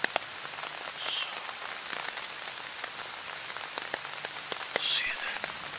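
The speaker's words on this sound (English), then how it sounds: "the rain should be done by 2 o'clock, I heard" Steady rain falls outdoors in the woods during an archery hunt, a dense continuous patter with scattered drops striking nearby surfaces, fairly loud and close, with no talk over it.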